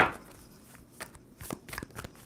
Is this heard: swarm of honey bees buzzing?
no